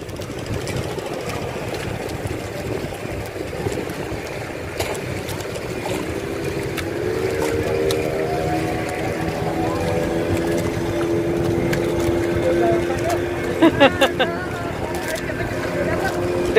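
Motorboat engines droning on the sea off Lovina, Bali, where hundreds of boats gather to watch dolphins, a steady nearby hum with a rising whine, and people talking over it.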